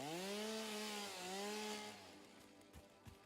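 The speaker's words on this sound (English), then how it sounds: "every single time I use a chainsaw, I keep saying, oh wow, that's loud" A chainsaw cuts wood in the video game Satisfactory, with a loud, close engine whine wavering in pitch, then cutting off partway through, leaving a couple of soft thuds.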